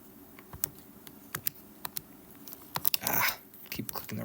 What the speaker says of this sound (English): Keep clicking the wrong button.